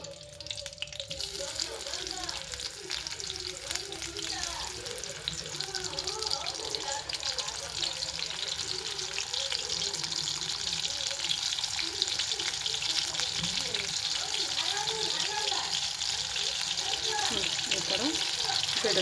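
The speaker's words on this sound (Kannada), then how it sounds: "ಈ ಥರ ಬಿಟ್ಕೊಂಡು ಎಣ್ಣೆ ಒಳಗೆ ಇದನ್ನ ಫ್ರೈ ಮಾಡ್ಕೊಬೇಕ್ರಿ" Potato chips frying in hot oil, a steady bubbling sizzle that runs the whole time with scattered crackles and pops, close and fairly quiet, with a voice speaking in places.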